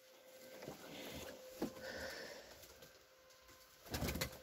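A pigeon coos softly nearby in a loft, giving a few faint, low murmuring calls spaced out against quiet background noise.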